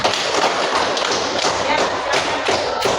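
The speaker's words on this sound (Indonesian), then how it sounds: "tepuk tangan untuk kelompok 3" Applause for a student group in an Indonesian classroom, a dense, steady patter of many hands clapping close by for the full stretch, with no pauses.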